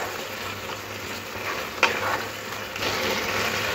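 Poppy seed paste ground with green chillies being mixed into ridge gourd and potatoes in a frying pan, a steady sizzle with stirring scrapes and one sharp clack of the spatula midway.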